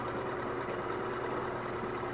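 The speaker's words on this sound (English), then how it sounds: "Well, it's an induction motor, lags a little from a synchronous motor." A steam-driven slam valve motor running on a bench, an induction motor spinning about ten rotations per second with a steady, even hum and faint vibration, constant and close throughout with no pauses.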